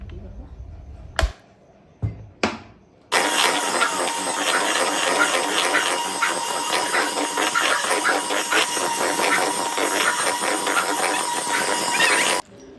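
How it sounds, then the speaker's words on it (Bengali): A blender whirs loudly and steadily for about nine seconds, mixing fruit sponge cake batter made with milk powder, refined oil and yogurt, after a few sharp knocks as it is set up, with no talk. "এটা ব্লেন্ড করতে সুবিধা হবে"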